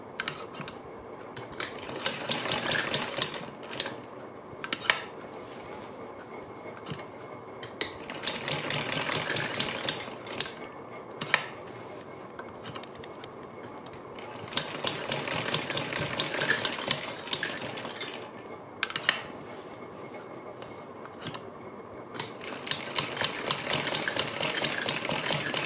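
A sewing machine stitching leaf-shaped fabric pieces onto a blouse back neck design, running in repeated rapid bursts of needle chatter separated by short pauses, close and fairly quiet.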